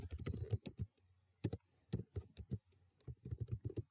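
Quiet, close typing on a computer keyboard in bursts of rapid key clicks with short pauses between clusters, with no one talking.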